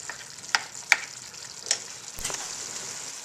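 Hamburger meat browns in a pan with a steady close sizzle, broken by a few sharp clicks and scrapes of stirring.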